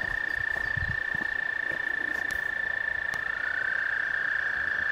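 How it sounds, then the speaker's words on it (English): Wood frogs croak in a dense, continuous chorus at Beaver Creek State Park, Ohio, in April, with a steady high insect-like drone running underneath throughout. "You can probably hear the wood frogs, I think that is starting up."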